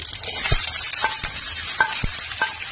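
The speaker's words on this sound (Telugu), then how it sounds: "సన్నగా కట్ చేసుకున్న ఆనియన్ వేసేస్తానండి." Thinly sliced onion hitting hot oil with mustard seeds, a steady close sizzle broken by a few spoon stirs and light clinks against the pan.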